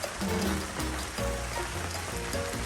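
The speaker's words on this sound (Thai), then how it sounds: "ตอนนี้ก็ฝนตกแล้ว" Rain falling outdoors, a dense, steady hiss of drops on surfaces, fairly close and even, with a few faint tonal sounds mixed underneath and no speech.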